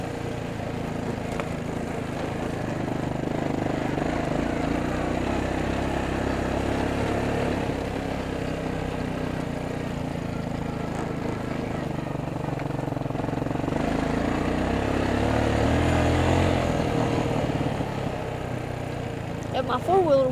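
An ATV four-wheeler engine runs steadily throughout, a continuous mid-level drone that swells slightly in the middle, with a person talking over it.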